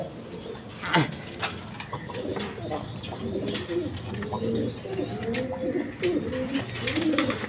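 Jacobin pigeons coo in a steady, overlapping chorus of low rolling calls, fairly close and continuous, with faint chirps and scattered clicks in the background.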